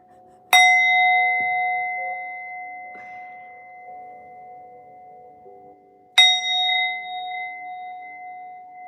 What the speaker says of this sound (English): And I know it's a sound bowl.